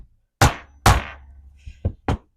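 A metal jewelry piece being flattened with a hammer for a jasper necklace: four sharp, ringing strikes, two heavy blows followed by two lighter taps, close and loud against a quiet background.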